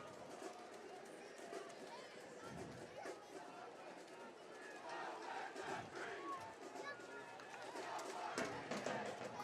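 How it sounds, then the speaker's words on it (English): Stadium crowd filing in before a professional soccer match between OKC Energy FC and Arizona United, a steady wash of distant chatter and murmur with scattered calls rising and falling throughout. "Crowd still making their way in, Mo."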